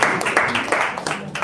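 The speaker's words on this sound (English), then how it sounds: "A round of applause, please, for our witnesses." An audience at a university chapter gathering claps for committee members and witnesses, a dense burst of near, continuous applause with faint voices mixed in.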